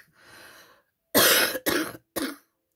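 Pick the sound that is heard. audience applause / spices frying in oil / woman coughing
woman coughing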